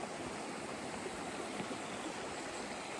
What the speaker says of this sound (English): Fiddler's Creek, tons of water